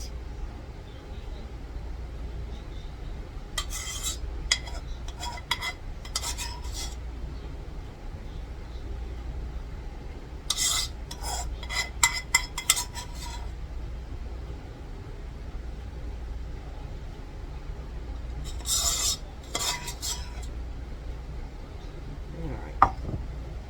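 A spoon scrapes homemade BBQ sauce from the bottom of a pot in three separate bursts of harsh, close scraping, with a person talking between them.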